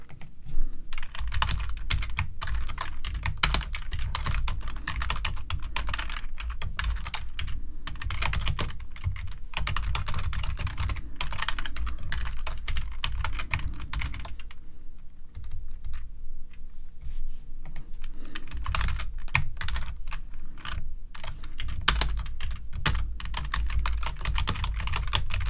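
Steady, rapid typing of code on a computer keyboard, a dense run of close, crisp key clicks that briefly thins out around the middle before resuming at full pace.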